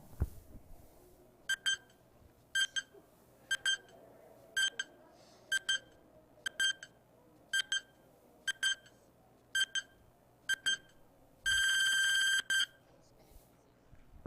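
An electronic countdown timer at a quiz bee sounds about ten short double beeps roughly one second apart and ends in a sustained buzzing alarm, all against a quiet room.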